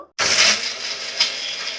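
A mixer grinder whirs loudly as it blends garlic cloves with cumin, turmeric, chilli powder and salt into a spicy garlic masala, the motor starting abruptly and running steadily with a brief surge partway through.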